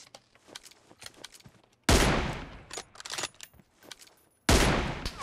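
Gunfire in the mobile battle-royale shooter PUBG Mobile: two loud bursts of automatic fire, each cutting in abruptly and running for a couple of seconds, separated by quieter scattered shots and game noise.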